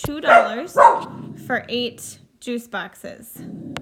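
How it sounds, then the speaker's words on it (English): A pet dog barks and yips a few times close by, its short sharp calls mixed in and alternating with a person talking indoors. "Sorry, that's my dog saying hello."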